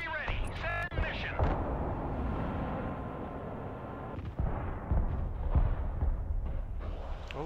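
Mobile artillery firing in the modern-warfare strategy game Broken Arrow: heavy booms and blasts land in a rapid cluster early on, then more scattered rumbling impacts follow, with a voice briefly heard among the explosions.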